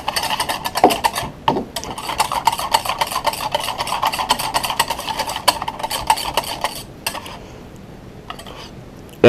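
Mayonnaise is whisked by hand as more oil goes in, giving a loud, fast, steady rattle of the whisk against the bowl for several seconds before it slows and stops.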